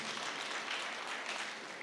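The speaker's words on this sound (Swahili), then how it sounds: "Wapigeni makofi wanapokuja." A church crowd in Kiambu claps steadily for guests as they arrive, a dense even patter of many hands held throughout, with no pauses.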